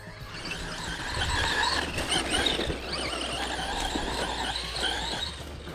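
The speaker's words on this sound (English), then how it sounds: "first run with the Jato BL2S in my soggy backyard" A Traxxas Jato BL2S RC buggy runs through a soggy backyard, its electric motor whining and tires squealing and splashing steadily over several seconds at moderate distance, with no talk.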